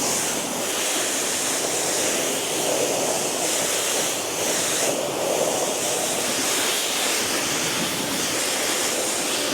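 Water spraying steadily over a Subaru Forester STI during a rinse, a loud continuous hiss and wash of spray held close throughout with no talking.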